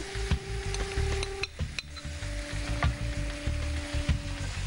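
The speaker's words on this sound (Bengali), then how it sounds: "সেদ্ধ করা রাজমা দিচ্ছি" Boiled kidney beans (rajma) hitting a hot pan with a little water, a steady sizzle with clinks and scrapes of stirring, while a low electronic tone hums in the background.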